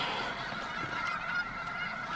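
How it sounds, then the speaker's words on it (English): A flock of geese honks continuously in the distance at Bosque del Apache Wildlife Refuge in New Mexico, many overlapping calls forming a steady outdoor chorus. "relax to the sound of the geese"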